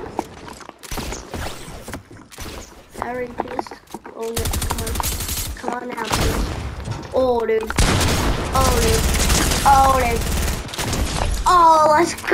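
Gunfire in Fortnite, repeated bursts of rapid shots and sharp booms building in intensity, loud and near, with game sounds and a voice between volleys.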